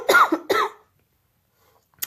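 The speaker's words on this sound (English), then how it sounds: "I'm sorry, I'm coughing." A person coughing twice in quick succession, close and fairly loud, followed by near silence and a faint short noise at the end.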